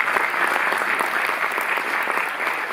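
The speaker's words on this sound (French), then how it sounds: "Vous pouvez l'applaudir." Brief, dense applause from an audience at a Paris Cinémathèque film event, close and fairly loud with no voices over it.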